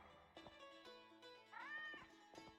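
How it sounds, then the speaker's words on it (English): A cat meows once in The Witcher video game, a faint rising and falling call over quiet game music with soft background sounds. "Okay, you heard the cat."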